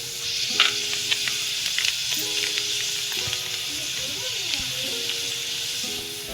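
Tomato and ginger-garlic paste fry in a pan for a Maharashtrian prawn masala, a constant close sizzle and hiss broken by light clicks and scrapes of stirring, with a faint tonal hum underneath.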